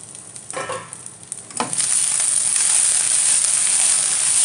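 Brinjal (eggplant) pieces sizzle loudly in a hot pan on medium flame, a few clinks and stirring noises at first, then a steady bright frying hiss up close with no talking.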